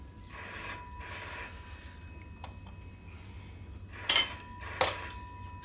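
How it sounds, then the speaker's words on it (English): A telephone bell rings in repeated double bursts, fairly close and loud in a quiet room, pausing between rings with no one answering or talking. "You can't just let a phone ring on and on."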